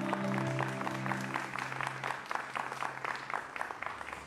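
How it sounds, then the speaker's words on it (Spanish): At a church worship event, a congregation claps while a sustained music chord fades out, giving way to moderate, fairly distant applause. "Un aplauso para el Señor."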